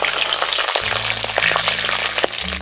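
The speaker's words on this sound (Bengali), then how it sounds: "এই তেলের মধ্যে দিয়ে চিনে বাদামগুলো ভেজে নাও" Peanuts fry in hot oil with a loud, steady sizzle and scattered crackling pops, over a low steady hum.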